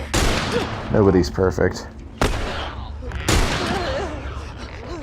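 Three powerful hunting rifle shots fired in The Last of Us: sharp, loud cracks spaced about a second apart, with a voice speaking between them.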